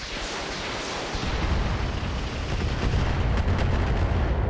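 Dense, continuous missile barrage explosions in the BattleTech mod RogueTech, a loud rumbling wall of overlapping blasts and booms with no pause.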